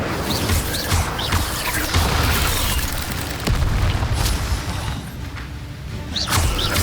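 Incendio fire spell cast repeatedly in the video game Hogwarts Legacy, a dense, continuous roar of whooshing bursts and booming crackles, loud and close, with periodic sharper flares and no talk.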